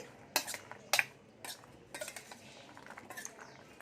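A metal spoon clinks against a bowl while chopped apple and pomegranate seeds are mixed for fruit custard, giving a few sharp close taps followed by softer scraping stirs in a quiet room.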